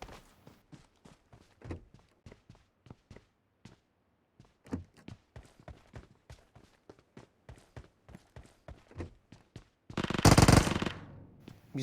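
Gunfire from a firefight in the PUBG Mobile battle royale game: a long series of sharp, distant single shots and short bursts at irregular spacing, then a brief, much louder close burst near the end, with no talk.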